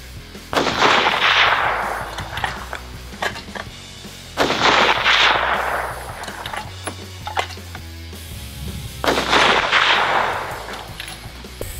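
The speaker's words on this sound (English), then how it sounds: "let's go ahead and get our second shot group, three shots here" A rifle fires three shots for a shot group at a range, each a loud, sharp crack with a lingering rolling echo, spaced a few seconds apart.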